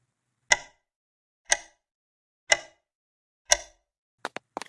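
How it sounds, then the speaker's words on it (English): Four evenly spaced sharp clicks about a second apart, each crisp and alone against silence, followed by a quick cluster of smaller ticks at the end, like a clock ticking loudly in a quiet house. "the clock's ticking grew louder, filling the house with its dreadful rhythm"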